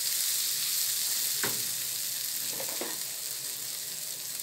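Dal mixture sizzles steadily in a pan for Chaitra Navratri vatli dal, with a few soft scraping strokes of a spoon stirring through it, close and continuous.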